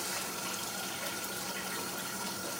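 Water poured into a pot to rinse food, a steady loud broadband splashing and gushing that fills the whole stretch with no pauses and no talk.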